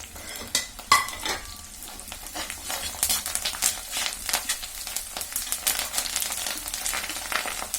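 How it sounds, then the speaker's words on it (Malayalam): Curry leaves fry in hot coconut oil with ginger, garlic and green chili for papaya pickle, giving a steady close sizzle broken by frequent scraping stirs and spatters. "നമുക്ക് കറിവേപ്പില ഇട്ട് കൊടുക്കാം."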